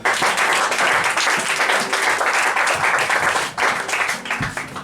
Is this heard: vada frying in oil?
no